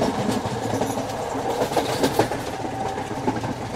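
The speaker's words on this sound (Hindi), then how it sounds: "लेकिन ये ट्रेन जो है ना बहुत फास्ट है।" A Sri Lankan passenger train running fast between Colombo and Kandy, heard from inside a carriage: a steady, loud rumble with rhythmic clickety-clack of the wheels on the rails throughout.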